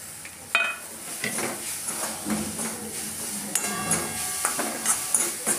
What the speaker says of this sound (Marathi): कैरी चांगली या फोडणीमध्ये मिक्स करून घ्यायची